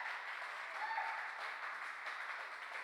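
Continuous applause from a conference audience for panelists at a healthcare industry show, an even wash of many hands clapping at moderate volume with no break.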